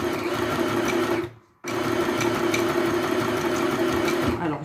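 A domestic sewing machine runs a zigzag stitch in a steady, loud mechanical whir with a fast stitching rhythm, halting briefly partway through and then starting again.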